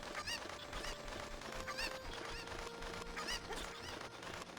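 Cucco hens from The Legend of Zelda: Ocarina of Time squawk and cluck in short repeated bursts over steady in-game music, with no talking.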